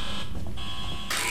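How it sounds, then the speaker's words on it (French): An alarm blares in the horror video game Alien Isolation, a steady loud tone holding throughout with a brighter burst near the end, no voices over it. "une alarme s'est déclenchée et ça fait un peu de bruit"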